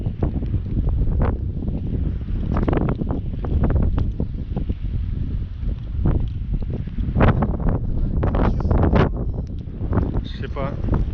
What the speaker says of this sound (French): Franchement, il y a du vent.